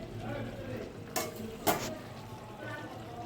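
A pot lid comes off simmering vegetables with two quick metallic clanks, over a faint, steady bubbling and soft stirring, all quiet and close.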